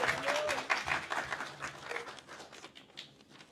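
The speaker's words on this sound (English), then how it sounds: "please, with a round of applause." Audience applause welcomes Dave, a keen cyclist and guitarist, at an inclusive wheelchair tennis event. The clapping is moderately loud and fades over about three and a half seconds, with a few scattered voices mixed in.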